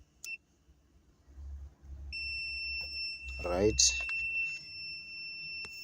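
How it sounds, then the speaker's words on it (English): A multimeter testing a refrigerator defrost heater fuse gives a steady high-pitched continuity beep that holds for several seconds, while someone speaks over it. "it makes a beeping sound, so it tells us this fuse is good"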